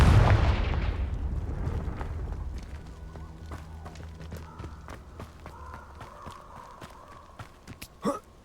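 A Confringo spell blast from Hogwarts Legacy erupts as a heavy, close burst that decays over a couple of seconds, followed by light rhythmic footsteps and small clicks in the game.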